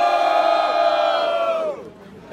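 Rap battle crowd at a team challenge event roars with sustained cheering and shouting, loud and dense for most of the stretch before dropping off abruptly near the end.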